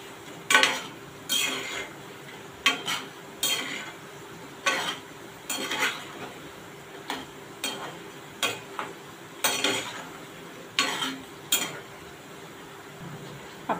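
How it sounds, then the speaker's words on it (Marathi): Moong dal pakoda frying in oil over a medium-low flame, with a soft sizzle underneath and repeated metallic clinks and scrapes of a utensil against the pan at irregular intervals. "आपली भजी इथे चांगली तळली जात आहे."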